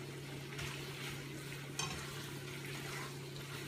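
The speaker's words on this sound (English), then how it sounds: "I'm going to want to kind of keep, the ingredients moving in the wok because of the intense heat" Udon noodles with shrimp stir-fried in a wok over intense heat make a soft sizzle with occasional light tossing scrapes, fairly quiet, over a low steady hum.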